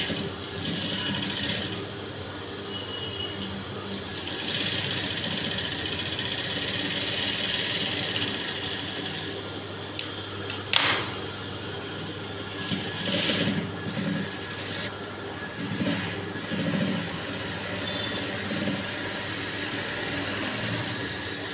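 A sewing machine stitches the side seams of a blouse, a steady fast mechanical whirr running throughout at moderate level, with brief pauses and small clicks as the fabric is adjusted.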